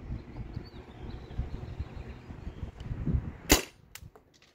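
Two sharp pops from a Byrna TCR launcher modded with a remote-line HPA tank, the first soft and the second a loud close crack, over steady low background rumble.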